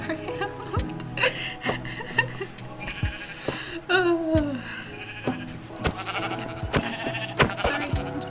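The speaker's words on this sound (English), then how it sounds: "Is that a sheep?" Minecraft sheep bleat repeatedly among quick clicks and game sounds, the wavering bleats rising now and then over a busy, fairly loud mix with chuckling mixed in.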